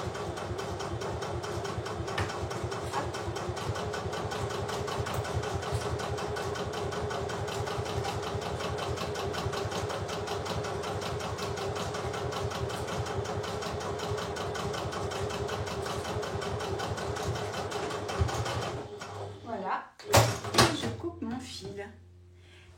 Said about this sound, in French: Et je repasse sur ma couture tranquillement.